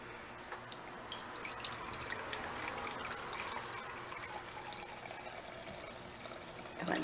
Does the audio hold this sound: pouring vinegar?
yes